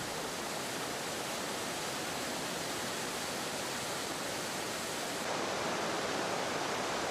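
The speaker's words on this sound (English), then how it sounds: "Emerald Pool is a small waterfall, 6 meters high." Steady broadband rush of falling water at Emerald Pool, a small 6-meter waterfall spilling into a swimming basin in Central America, a continuous close roar with no voices.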